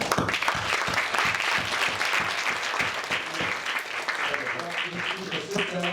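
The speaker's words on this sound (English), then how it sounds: "give Israel a big round of applause" An audience at an evening small-talks event claps steadily for a guest, the individual hand claps distinct and fairly close, with voices faintly under the applause.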